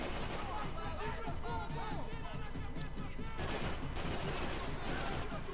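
Dense gunfire from the video game Max Payne 3, with rapid overlapping shots and bursts filling the whole clip loudly, mixed with game crowd noise and shouting.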